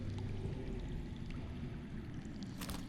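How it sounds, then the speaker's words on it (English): Game-world water runs somewhere underground, a continuous low rushing wash that stays even throughout, with a few faint higher splashes near the end. "That's water. I hear water. From underground."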